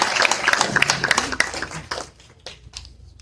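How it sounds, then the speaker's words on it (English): A dense patter of applause from a convention audience cheering frenzy bonus qualifiers, loud at first and then thinning out into scattered, fading claps. "Give them a round of applause."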